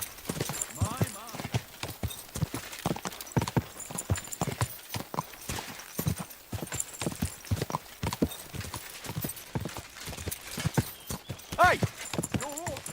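Steady clip-clop of horse hooves trotting nearby, with voices talking over the rhythmic hoofbeats.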